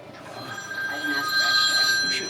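A telephone rings indoors with repeated electronic trilling bursts of steady tone, fairly close and moderately loud, with faint room sound underneath.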